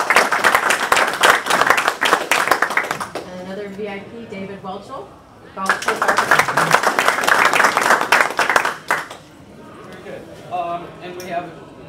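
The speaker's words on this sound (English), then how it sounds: "let's give him another round of applause" Audience applause at a Rotary Club meeting in Jonesboro, North Carolina: two loud bursts of clapping from a room of people, each a few seconds long, alternating with someone speaking into a microphone.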